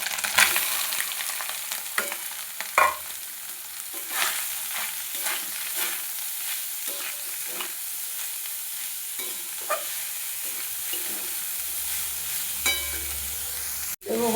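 Cauliflower sizzling and frying in a pan with asafoetida, kasuri methi and spices for cauliflower kachori filling, a steady close crackle with occasional stirring scrapes and clinks, no talk.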